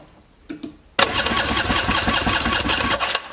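A 1995 Yamaha WaveRunner jet ski engine is cranked over for a compression test with the throttle open, a few faint clicks followed by a loud, steady, rhythmic cranking drone close by.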